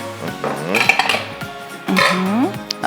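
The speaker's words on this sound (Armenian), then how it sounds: "Այստեղ լցնում եմ արդեն սերմերը, մենք սերմ որ վերցրել ենք դդմի եւ արևածաղկի սերմ" Pumpkin and sunflower seeds are poured into a dish, giving a close, bright clinking rattle in two short bursts with a pause between.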